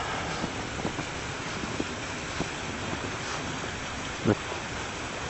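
A snowy creek running full and roaring along, heard as a steady broadband rush of water with wind buffeting the microphone and a brief thump near the end.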